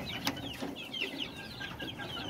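A flock of young growing chickens peeps and chirps continuously in a backyard coop, many small overlapping calls at close range with a brief sharp click early on.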